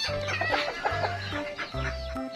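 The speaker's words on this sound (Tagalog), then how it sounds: "Ito yung ating mga tsabo na nakagala dito sa labas ng kulungan" Chabo bantam chickens roam outside their coop, giving repeated low clucks in short bursts with higher chirpy notes between, close and clear with no talking.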